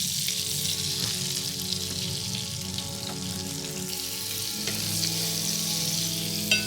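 Pieces of veal neck sear in a hot pan, giving a steady soft sizzle with light crackles throughout, close but fairly quiet.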